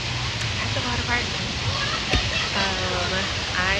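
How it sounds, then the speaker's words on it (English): At a Bali water park, a steady loud rush of water like a waterfall or flume fills the scene, with faint voices and shouts of people mixed in. "Currently at the water park"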